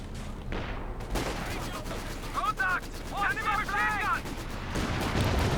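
Infantry support gunfire in a Company of Heroes mod match, a dense crackle of rifle and machine-gun bursts mixed with other battle noise, with a voice talking over it.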